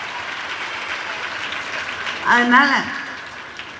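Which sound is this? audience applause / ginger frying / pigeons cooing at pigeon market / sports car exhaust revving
audience applause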